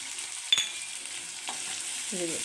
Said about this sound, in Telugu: ఇందులోకి ఆనియన్, స్వీట్ కార్న్ కూడా వేస్తున్నానండి. వేసి కొద్దిగా ఉప్పును కూడా వేసుకుంటున్నాను.